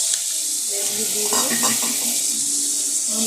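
Ginger-garlic paste with ground cumin, coriander and chilli frying in a pan, making a dense, continuous close-up sizzle with faint stirring scrapes.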